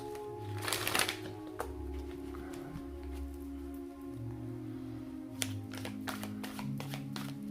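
Oracle cards are shuffled in a string of quick papery riffles and soft taps, close and fairly quiet, with a low hum underneath and no speech.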